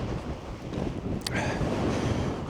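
Strong, cold wind buffets the microphone high on a mountain ridge near Am Bodach in Glencoe, a steady roaring rush with a brief gustier burst midway and no voices.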